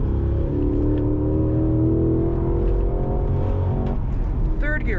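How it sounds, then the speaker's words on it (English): A 2025 Cadillac CT5-V Blackwing Precision Edition pulling hard at full power out of a corner on track, its engine note rising and droning loudly as it accelerates, with someone talking over the cabin noise. "Trail braking it in, late turn in, full power all the way out."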